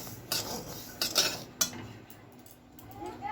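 Spatula scraping and clinking against a pan while frying semolina, a few sharp metallic taps spaced apart over a low background hiss, fairly close and moderately quiet.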